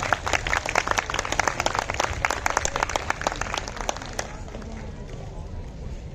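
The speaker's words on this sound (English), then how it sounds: "Please give her a big round of applause." Dense applause from a crowd at a school prize distribution ceremony, loud and steady for about four seconds before thinning out into scattered claps and a quieter room.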